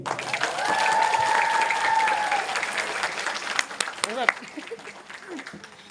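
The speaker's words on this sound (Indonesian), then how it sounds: "Beri aplaus untuk beliau" An audience at a Maulid sermon gathering at an Islamic boarding school breaks into applause for the speaker's teacher, a swell of clapping that fades into scattered claps.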